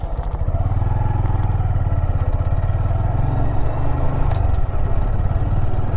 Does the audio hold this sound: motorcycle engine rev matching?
yes